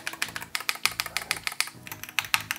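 Rapid typing on a Luminkey Magger68 magnetic mechanical keyboard, a steady run of crisp clacky keystrokes close up with no talking.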